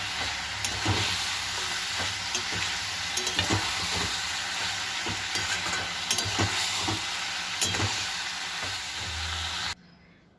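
Greens curry sweetened with sugar sizzles steadily in a pan while a spoon scrapes and stirs in irregular knocks, a close, continuous frying hiss that cuts off abruptly near the end.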